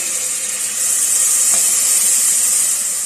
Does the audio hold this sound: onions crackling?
yes